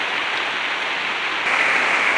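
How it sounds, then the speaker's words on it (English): Heavy rain pours down outdoors in Ohio during repair work on a 2003 Chevrolet Silverado with a 5.3 V8, a dense, steady hiss of drops that grows slightly louder partway through, with no voices. "It's raining its butt off out here"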